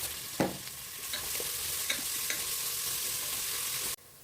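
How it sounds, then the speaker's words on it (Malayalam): Two onions sauté in hot oil with salt for kabsa, giving a steady close sizzle with scraping stirs and a few sharper clinks before the frying sound cuts off abruptly near the end. "രണ്ട് ഉള്ളിയായിട്ട് എടുത്തിട്ടുള്ളത് എണ്ണ ചൂടാകുമ്പോൾ അതിനകത്ത് ഇടണം എന്നിട്ട് നന്നായി വായിച്ച് കൊടുക്കണം"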